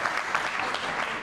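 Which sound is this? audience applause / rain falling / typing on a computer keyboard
audience applause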